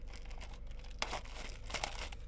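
A dull box cutter slices open a cardboard package, giving soft crinkling and scraping with two sharper tearing rips, quiet and close with no talk.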